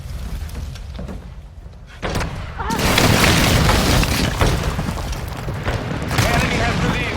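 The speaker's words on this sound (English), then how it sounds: "Hostile airstrike incoming." A Warzone Mobile team deathmatch airstrike lands as a heavy boom, followed by several seconds of dense, rumbling blast noise and crackling debris. The sound is loud and close, and game voice callouts are mixed in.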